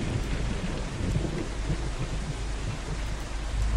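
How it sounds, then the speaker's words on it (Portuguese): Heavy rain pours in the Android trucking game Truckers of Europe 3. A deep thunder rumble rolls underneath the steady, dense hiss of the downpour. "Já que decidiu chover aqui no jogo."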